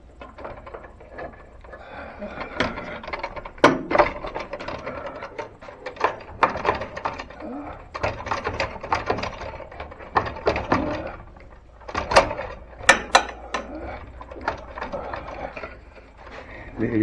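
A Craftsman radial arm saw is shifted and turned around on a workbench, producing a series of close, irregular clunks, knocks and rattles with some quieter handling noise in between.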